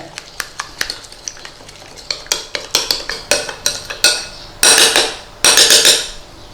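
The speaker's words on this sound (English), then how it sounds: "Then all we're going to do is give that a good mix." A spoon mixes caster sugar into homemade salad cream in a bowl, making a quick run of close clicks and scrapes that speeds up into louder, sustained bursts of whisking.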